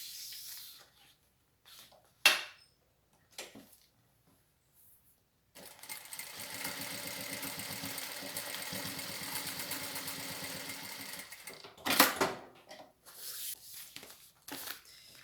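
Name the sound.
sewing machine stitching fabric seam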